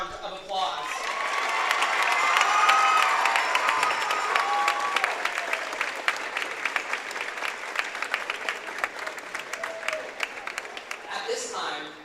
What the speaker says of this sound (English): let's give those 2 women a big round of applause